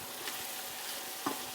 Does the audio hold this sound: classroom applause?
no